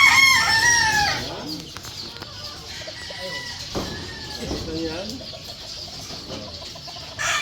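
Farmyard chickens and roosters cluck and crow close by, one crow loud at the start and more squawks scattered through, while someone talks over them.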